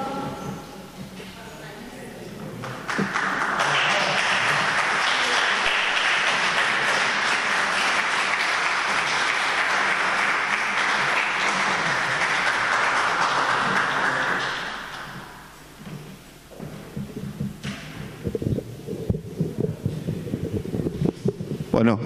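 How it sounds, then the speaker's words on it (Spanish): An audience applauds an artist at a municipal event, a dense, sustained wash of clapping lasting over ten seconds before fading out, followed by a voice speaking. "El aplauso para Rogelio Borra García."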